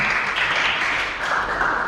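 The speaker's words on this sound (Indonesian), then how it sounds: "kita berikan tepuk tangan untuk kelompok 4 dulu" A class gives applause after a group presentation, a dense even burst of clapping from many hands that holds steady, dipping briefly near the middle before swelling again.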